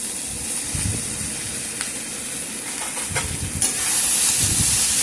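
Cut potatoes drop into a pan of bitter gourd, onion and green chilli, setting off a steady frying sizzle and hiss with faint stirring scrapes, louder toward the end, with no talk.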